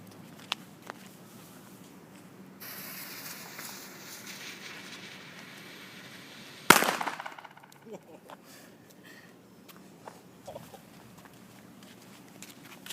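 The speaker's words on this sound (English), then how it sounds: "we're going to be blowing up a tomato with our leftover fireworks" Leftover fireworks blowing up a tomato outdoors: a faint fizzing fuse, then one sharp loud bang followed by scattered patters of debris, with quiet background noise.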